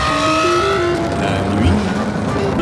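A Lamborghini Revuelto launching from a standstill at a race start, its engine loud and close with a rising, strained roar that climbs steadily in pitch and mixes with wind and road noise.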